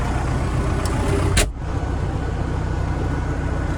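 An MTZ 892 tractor engine drones steadily while driving slowly through a wheat field applying liquid fertilizer, a constant loud rumble with a brief sharp clank midway.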